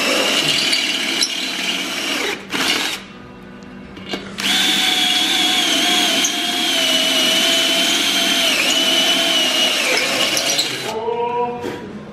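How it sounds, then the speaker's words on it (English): A power drill whines loudly drilling bolt holes enlarged for 8mm bolts, starting and stopping in short bursts before a long sustained run, its pitch dipping under load, ending with a winding-down spin. "we had to drill those because we got an 8mm bolt instead of a 6"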